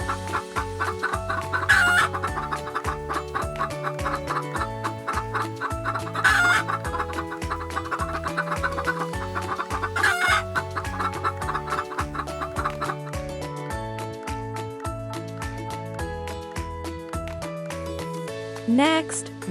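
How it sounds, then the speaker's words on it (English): Farmyard chickens cluck steadily throughout while a rooster crows loudly several times, over layered background music. "Then we have chickens."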